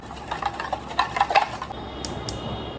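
Ingredients stirred in a bowl for a fluffy batter, a series of light clinks and scrapes of a utensil against the bowl at an uneven rhythm, fairly close and quiet.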